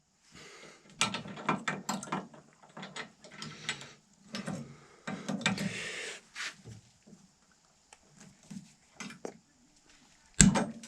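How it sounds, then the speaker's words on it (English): Snippers cut the end off a thick, roughly 2 1/4 inch finishing nail while making a simple powder horn: soft handling and clicks of the tool, then a sharp, loud snap near the end. "snip off the end"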